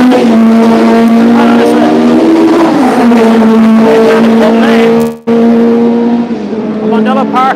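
Race car engines drone loudly and continuously at Mondello Park race track, with the pitch shifting as they pass, while someone talks close by over the noise.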